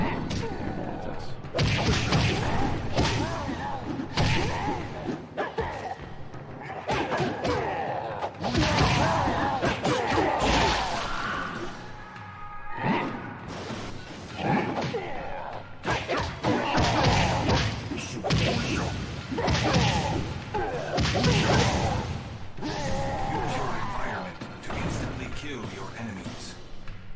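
Punches, kicks and whooshing swings from a monk fighter's normal attacks in Mortal Kombat: Shaolin Monks on PS2 land as repeated thuds and smacks amid game music, with someone talking over much of the action.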